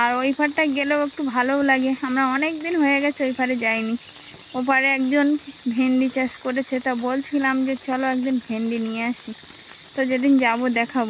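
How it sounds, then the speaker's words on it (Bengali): Crickets chirp in a steady, continuous high drone through a rural morning by the water, a constant layer beneath nearly unbroken nearby conversation. "সঙ্গে ঝিঝি পোকার ডাকও শোনা যাচ্ছে"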